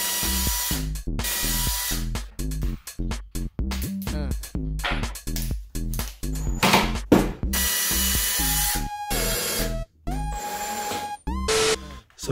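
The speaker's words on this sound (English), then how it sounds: "then actually put the screws in" A power drill drives screws into a wooden shelf of a model car display cabinet, several bursts of whirring motor with short pauses between, close and loud, with faint tonal whines near the end.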